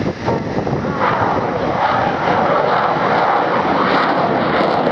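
Eurofighter Typhoon jet engine opening up at full throttle during a display at the Wales National Airshow, a loud continuous broadband roar holding steady throughout, with wind buffeting the microphone.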